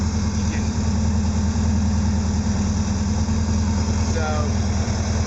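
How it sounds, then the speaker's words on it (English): A Porsche 914 engine idles steadily after a fuel mixture adjustment, a smooth low rhythmic rumble that stays even and fairly loud throughout. "the idle kind of smooths out when we hit a happy spot for the fuel mixture"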